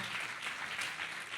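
Congregation applauding during a Spanish-language church sermon, a steady dense wash of clapping filling the whole short stretch at moderate level, with no voices over it.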